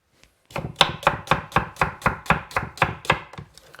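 A slightly blunt kitchen knife chops sauce ingredients on a board in about a dozen evenly spaced, crisp thuds, close and loud, with no talking.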